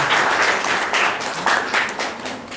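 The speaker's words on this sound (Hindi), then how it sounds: "आपकी तालियां सम्मान और शुभकामनाएं हैं।" An audience claps at a ceremony for International Girl Child Day, a dense wash of applause with slight pulses of stronger clapping running steadily throughout.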